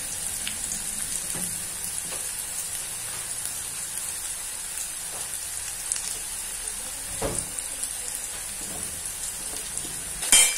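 Onions frying on a high flame for poha, a continuous close crackling sizzle throughout with occasional faint spatula stirs, no talk.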